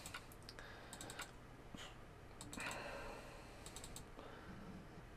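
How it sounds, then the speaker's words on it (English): Rapid, irregular clicking from a computer keyboard, with bursts of light keystrokes and short pauses between them, heard close up over a faint background hiss. "can hear some clicking. It's just me."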